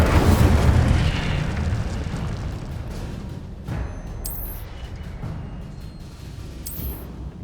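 Incendio fire spell cast in Hogwarts Legacy: a loud booming blast at the start that rumbles and fades, with a smaller burst near four seconds and a bright sparkling flare near seven seconds.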